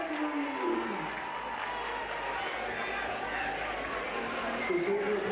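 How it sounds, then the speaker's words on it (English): At a fight decision, the arena crowd applauds and cheers continuously, with whoops and shouts rising over a steady roar, while an announcer's voice carries over the top. "Please hold your applause for his opponent, Scott Collins."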